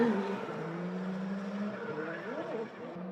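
A Corvette race car speeds along a track, its engine droning with rising and falling pitch as it passes, accompanied by an excited commentator talking over it.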